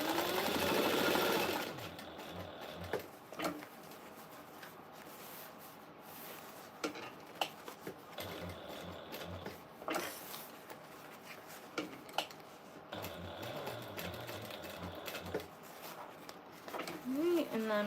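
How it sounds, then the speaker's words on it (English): A sewing machine runs in short bursts, stitching a seam around the top and sides of a piece of fabric, while a person talks over and between the runs. "I'm going to sew it closed around the top and sides at least a 1/4 inch seam allowance"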